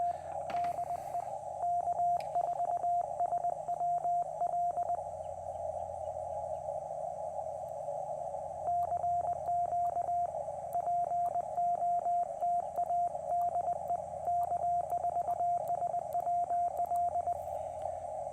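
Steady CW sidetone near 500 Hz from a QMX high-band transceiver during a portable POTA activation, keyed in continuous Morse bursts with brief gaps, loud and close with no talking.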